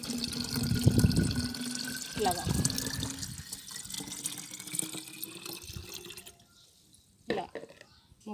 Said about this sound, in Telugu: ఒక స్ప్రేయర్ తీసుకొని అందులో వాటర్ అయితే నింపుకుందాము